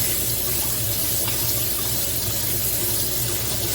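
Food sits in a big strainer under a running kitchen tap, and the water makes a steady, loud, unbroken rush the whole time.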